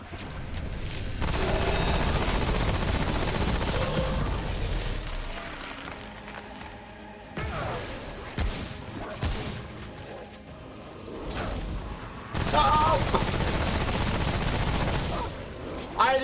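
Gunfire from the video game Remnant: From the Ashes, with dense overlapping bursts and booms filling the first several seconds, then scattered shots and effects returning loudly near the end amid game noise.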